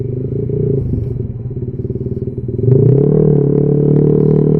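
A Suzuki Raider/Sniper 155 motorcycle with a quick shifter revs loudly close by, its engine pulsing with rapid chatter, then surges to a higher, steadier pitch as it shifts without the clutch.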